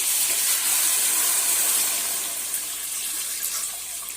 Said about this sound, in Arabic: هحط الميه،